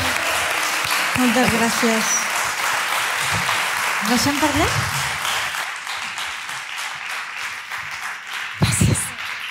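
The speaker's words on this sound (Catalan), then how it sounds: "Un fort aplaudiment per ella" Audience applause at an event honoring Montserrat Roig, steady clapping from a room full of people with speakers talking over it and a brief louder burst near the end.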